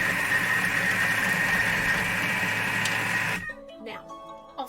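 A kitchen mixer blends oats, coconut and butter at a steady, loud, even whir for about three seconds, then cuts off abruptly, leaving quiet clinks and faint handling sounds.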